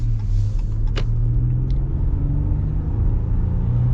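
A 2023 Ram 1500 Warlock pickup truck cruising with a steady low engine and road rumble heard from inside the cab, continuous and fairly loud with no talk.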